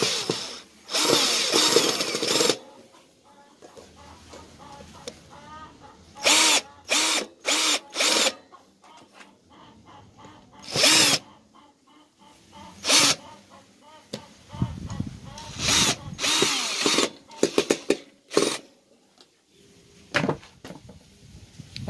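A power drill drives screws back into a factory-reinforced piece during a before-and-after refurbishment, whirring in repeated short, loud bursts. Quieter handling noises and a little speech fill the gaps between bursts.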